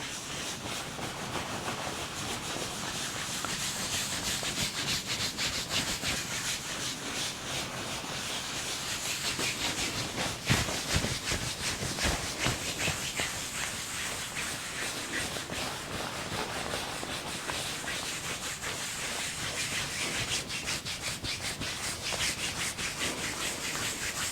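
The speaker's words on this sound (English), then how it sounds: "rubbing fairly firmly to create heat and softness" Hands rub firmly back and forth across a person's back during an Indian head massage, a steady close-up friction sound with a soft whooshing texture that carries on evenly throughout.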